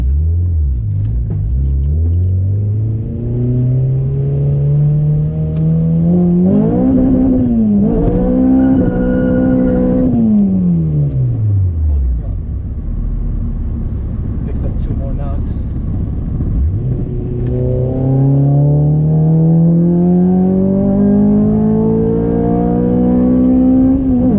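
A Honda Civic Si with a swapped K24A engine revs up at wide open throttle with a deep exhaust rumble that rises in pitch, drops, then climbs again, loud and close throughout.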